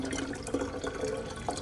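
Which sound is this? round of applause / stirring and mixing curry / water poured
water poured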